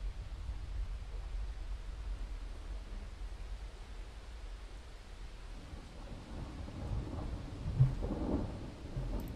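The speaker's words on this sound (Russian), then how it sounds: "У нас прям дождь начался в мире Доты." Rain and thunder play as ambience in the video game Dota. A steady soft hiss of rain sits under a low rolling rumble of thunder that swells louder toward the end, with no talking.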